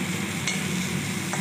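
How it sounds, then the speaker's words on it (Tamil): Curry leaves and coconut sizzle steadily in hot oil while a spoon stirs and scrapes the pan close by. "கருவேப்பிலை தேங்காய் எல்லாத்தையும் போட்டு நான் ஒரு வதக்க வதக்குவேன்"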